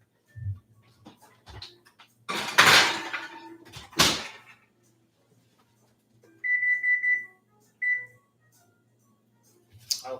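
A muffin tray goes into an oven in a quiet kitchen: a few light clinks and handling noises, then a sharp metallic clatter and the thump of the oven door, followed by short electronic beeps from the oven controls.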